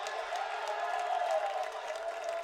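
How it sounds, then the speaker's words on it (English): A women's college volleyball crowd in a gym, Seattle Pacific versus Western Washington, cheering and clapping in a sustained, moderately loud swell after a rally, with an announcer talking over it. "Crowd fired up after that one."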